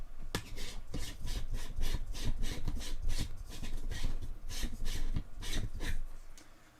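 A wide angle attachment is unscrewed from a camera lens, heard as a close, steady run of rhythmic rubbing and grinding strokes, like threads turning, at an even pace throughout.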